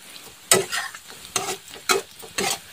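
An egg and coriander bhaji frying in a pan is stirred in about four distinct scraping strokes over a low sizzle, close-up with no talk.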